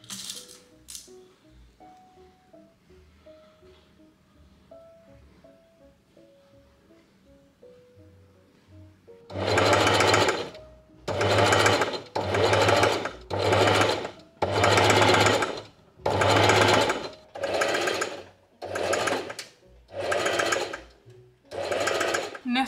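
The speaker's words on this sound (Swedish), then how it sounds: "Och så ska jag sy ihop där och där." A sewing machine stitches a blouse in repeated loud bursts of rattling motor running, starting about halfway after quieter moments with speech, close and dominant.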